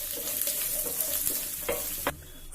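Carrots cooking in a pan over a medium flame give a soft, steady sizzle with light stirring scrapes, quiet and close, ending in a brief clatter.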